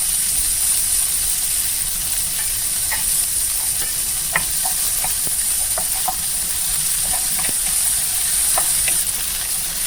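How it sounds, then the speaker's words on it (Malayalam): Shrimp frying in hot coconut oil in a pan for chemmeen chammanthi, a steady close sizzle and hiss with scattered sharp pops and crackles throughout, no voices. "അതൊന്ന് ചൂടായി വരുമ്പോൾ ചെമ്മീൻ ഇട്ട് കൊടുക്കാം."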